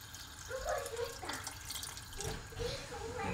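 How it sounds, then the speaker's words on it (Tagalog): Water poured from a container into a pan of chicken wings cooking on the stove, a moderate splashing pour that runs for a few seconds under a voice talking nearby. "Lagyan na natin og tubig."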